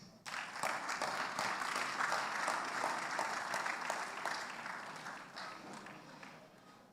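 An audience at an international conference and annual general meeting applauds a lead presenter, with a fairly quiet, sustained burst of clapping that lasts several seconds and then slowly fades.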